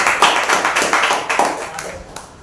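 Applause at a church Wednesday service, a small group clapping in a quick, fairly even rhythm close by, with a voice audible over it.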